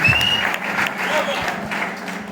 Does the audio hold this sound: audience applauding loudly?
yes